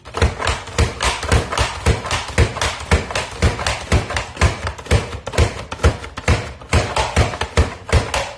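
Knife chopping cucumber into thick slices on a cutting board, a fast, even series of close, sharp taps and thuds with no pauses.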